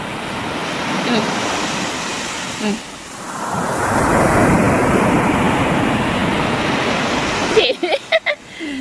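Ocean waves break and wash up on a beach where people dig for razor clams, a loud surging roar that swells and recedes, with wind noise and short bursts of talk near the end.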